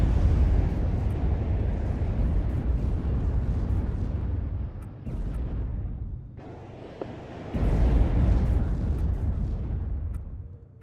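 Missiles and rockets explode in WARNO, a modern military strategy game, as a continuous heavy rumble of blasts and booms that dips briefly midway, then surges back loud before fading out.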